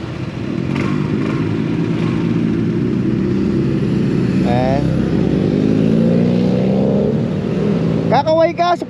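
Motorcycles, including BMW bikes, roar past on a South Korean road near Pohang, a steady loud engine drone with rising revs throughout, and a higher whine or horn near the end; people talk over it.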